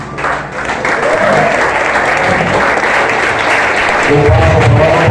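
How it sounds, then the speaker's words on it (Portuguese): A church congregation at a Sunday worship service bursts into sustained, loud applause that fills the room, a thick wash of clapping that swells and holds steady to the end. "Vamos aplaudir o Senhor, porque Ele é digno."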